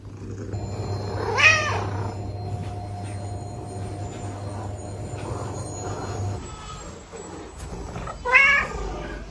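Two distinct cat meows, one early and one near the end, over a steady low hum and faint mechanical rumble.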